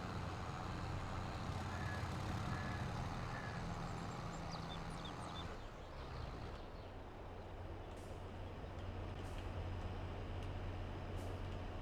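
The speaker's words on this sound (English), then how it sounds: "slowing down like they got air brakes like a truck." Tractor air brakes in Farming Simulator 22, a steady hiss and rumble of heavy machinery slowing down, with a broadband shift midway and faint high whistles; game engine drone continues throughout without talk.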